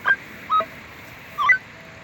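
Short electronic beeps of varying pitch from a Minelab E-Trac metal detector sound in three brief chirps over a steady low hiss, one pair close together near the end.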